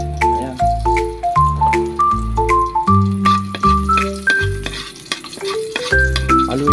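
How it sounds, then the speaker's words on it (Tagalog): Garlic sautéing in a hot pan, a steady sizzle mixed with stirring and set beneath loud, melodic background music that plays throughout. "Lalagay na natin tong bawang."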